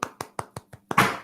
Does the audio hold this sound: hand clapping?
yes